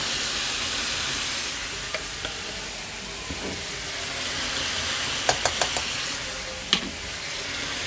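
Pork with oyster sauce, sugar and seasoning sizzles in a pan as it is stir-fried, giving a steady, close frying hiss broken by a few quick clicks of the spatula.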